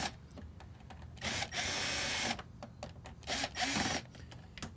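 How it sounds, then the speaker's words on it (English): A small power tool whirring in short bursts, one long stretch of about a second and several brief pulses, as cable clamps on 12-volt RV wiring are tightened at close range. "let me tighten the cable clamps first before I forget"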